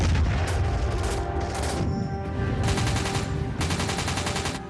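Cannon fire strikes a ship in a dramatized Falklands attack: dense bursts of rapid gunfire and booms rattle on loudly and nearly without pause, heavy and chaotic throughout.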